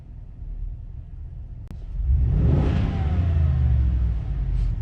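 A Ford F350 XL pickup idles with a low rumble, then is revved hard into a loud, sustained engine roar at close range that holds to the end.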